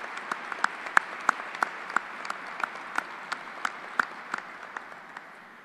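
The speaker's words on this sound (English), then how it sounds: "Please join me in applause for this great leader at this time in our history" An audience at an Air Force change of command ceremony claps for a military leader, a sparse run of distinct hand claps ringing out in a large hall and slowly thinning toward the end.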